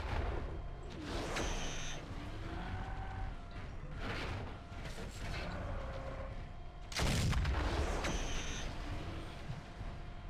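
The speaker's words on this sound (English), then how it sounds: "Big explosion." Heavy explosion in the mech combat game Mechwarrior 4: Vengeance, a loud broadband boom near the end standing over continuous rumbling battle noise, engine drone and earlier blasts and weapon fire.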